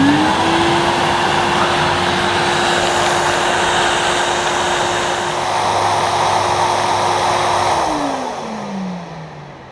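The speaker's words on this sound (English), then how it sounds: "So I'll start with the power head off and then I'll switch on." A Henry Hound vacuum cleaner runs with its power head switched off, giving a loud, steady motor whine and rushing suction that holds evenly, then winds down in pitch near the end.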